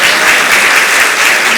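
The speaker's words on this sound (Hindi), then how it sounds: "तो ताली बजाने से नहीं हो।" Audience applause fills a spiritual discourse hall, a dense, steady wash of many hands clapping at close range, loud and continuous with no voices over it.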